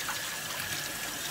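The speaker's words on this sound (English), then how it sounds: "just run water" Tap water runs in a steady, close trickle over a freshly washed dish in a kitchen sink, a constant hiss with no voices.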